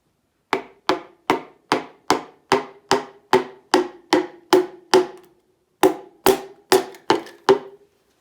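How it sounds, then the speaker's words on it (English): A hammer strikes wood in a steady run of ten sharp knocks, pauses briefly, then lands five more evenly spaced blows, close and crisp, tapping a piston through a wooden block into a GM Mercruiser 120hp engine. "take yourself a hammer on the wood side."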